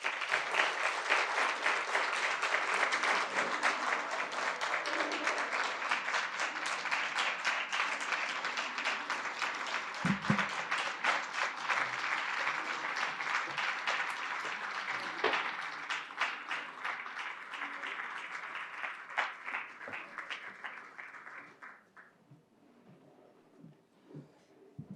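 Sustained applause from a large audience at the Nat Nakasa Awards 2023 ceremony, steady and dense for about twenty seconds before tapering off near the end.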